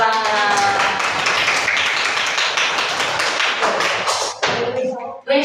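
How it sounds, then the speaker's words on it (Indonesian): A classroom of students claps together, a dense burst of many hands applauding loudly and steadily for several seconds before tapering off, with children's voices rising at the end. "Give applause, tepuk tangan."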